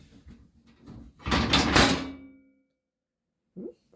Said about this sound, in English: Look at this Dutch door. Unfortunately, it's the old aluminum or stainless steel style.